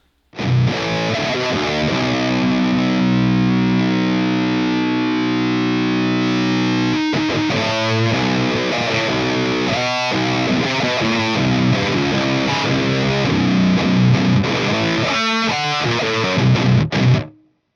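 Heavily fuzzed electric guitar through a fuzz pedal, first a sustained chord ringing out, then a loud, buzzy riff of chugging notes and bends, played alone.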